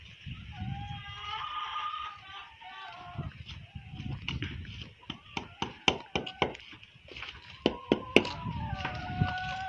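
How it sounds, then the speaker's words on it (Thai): Chickens cluck and crow in the dark at a sugarcane farm in Nakhon Pathom, Thailand, a rooster's long calls over scattered clucks and sharp tapping knocks, fairly close with no talking. "นี่เสียงไก่ครับ"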